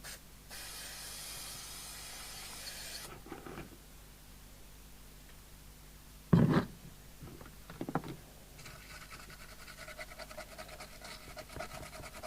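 Isopropyl alcohol from an aerosol can sprays in one steady hiss of about two and a half seconds onto a TTI TCB771 CB radio being serviced for moisture damage, followed by quieter handling knocks and clatter.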